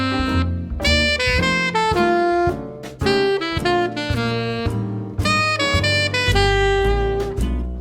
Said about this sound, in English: This one is diatonic above, then chromatic below, and it sounds like this